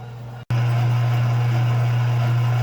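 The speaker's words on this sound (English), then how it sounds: "So there is the gears rotating" Gears of an Angel juicer turning with the cover removed, a loud, steady low motor drone that cuts out briefly and then restarts and runs continuously.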